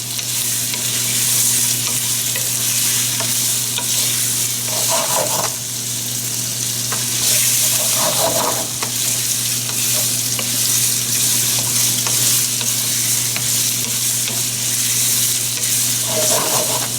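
Sausage for calzones frying until golden brown in a pan, giving a loud, steady sizzle throughout, with occasional scraping stirs breaking in.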